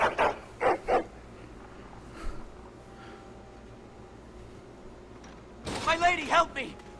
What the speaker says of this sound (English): Although he is barking and growling at the doors, so perhaps something is wrong.